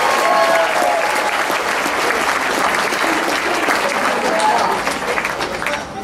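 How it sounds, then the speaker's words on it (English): Loud, sustained applause from a concert crowd greeting a band's drummer during live introductions, steady dense clapping with a few cheers that tapers slightly near the end. "give them a nice round of applause when I do that"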